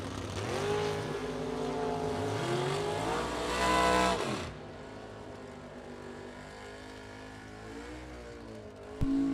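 A double-entered Camaro launches in the right lane at a bracket drag race, its loud engine roaring and revving hard for about four seconds before dropping away to a steadier, more distant drone that fades down the strip.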